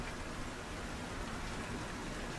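Steady rain falls as a dense, even hiss with no pauses or voices, constant and fairly soft throughout.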